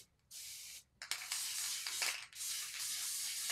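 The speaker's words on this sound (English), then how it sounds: "We're spraying." Short and long bursts of hissing from an aerosol spray can, close and fairly loud, with brief pauses between the sprays in a quiet indoor craft setting.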